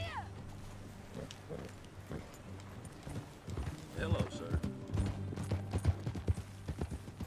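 Horse hooves clip-clop steadily at a walking pace in Red Dead Redemption 2, growing busier partway through, under a low droning backdrop while a person briefly speaks.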